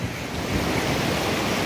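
The White River running high in the rain, a dense, steady roar of water rushing over large rocks, close and loud with wind buffeting the microphone and no voices.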